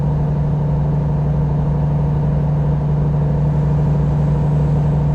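A truck engine in American Truck Simulator runs at a steady, loud idle-like drone, a continuous low hum with no changes in pitch or breaks throughout.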